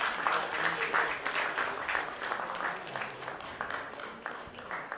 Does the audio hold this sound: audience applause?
yes